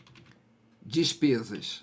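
Keys clack on a computer keyboard during spreadsheet work in Excel, a short burst of close, crisp keystrokes typed under a speaking voice.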